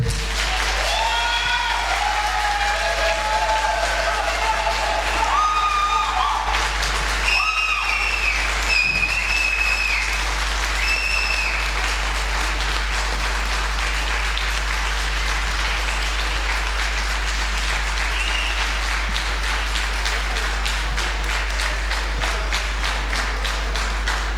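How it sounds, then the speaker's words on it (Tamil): A long, sustained applause for a nadaswaram troupe at a cultural association concert, dense and steady throughout, with a few bright tonal notes from the instruments fading out early on. "இவர்களுக்கு நமது அன்பை ஒரு நீண்ட கரகோஷத்தால் வெளிப்படுத்துவோம்"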